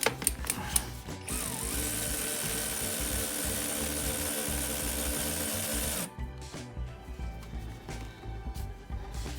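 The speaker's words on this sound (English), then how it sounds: "now I've got my ratchet to try to get on here" Hand ratchet and tools working the bolts on a 1997 Jeep Wrangler TJ cylinder head, a steady close mechanical whirring and clicking that runs for several seconds, then stops, leaving scattered handling noises.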